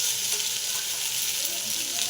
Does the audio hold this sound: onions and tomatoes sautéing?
yes